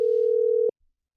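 A single steady electronic phone tone holds for well under a second, then cuts off abruptly, leaving near silence.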